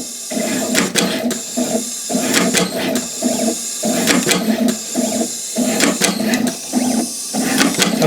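A pick-and-place machine places capacitors onto a circuit board, giving repeated bursts of whirring motors and clicking, ratcheting mechanism movements in a steady rhythm, close and fairly loud, with no talk.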